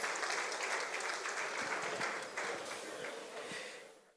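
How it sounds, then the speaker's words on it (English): Steady audience applause at a legacy and leadership lecture, a dense wash of clapping that is fairly distant and soft and fades out over about four seconds. "a round of applause is in order"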